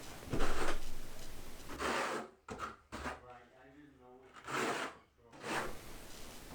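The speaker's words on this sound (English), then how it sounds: "when you're spreading this thin set, usually what I do is I just get it on the wall, and then I will comb it out with the trowel" A trowel spreads thin-set tile mortar across a bathroom wall with rough, scraping strokes that come in bursts between pauses, close by, alongside someone talking.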